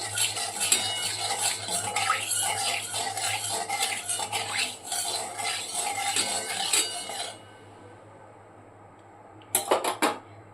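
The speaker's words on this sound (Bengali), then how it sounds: "একটু কালার আনার জন্য খুব ভালো করে নাড়িয়ে নিচ্ছি" A utensil scrapes and clinks steadily against a pan while mustard hilsa curry with Kashmiri chili powder is stirred, the busy stirring stopping partway through before a few sharp final clinks.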